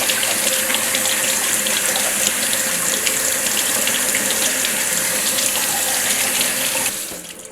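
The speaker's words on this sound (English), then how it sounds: "First thing I'm going to do is to wash all my ingredients." Tap water runs in a steady, loud gush while peppers and a potato are washed under it, cutting off abruptly near the end, with no voices.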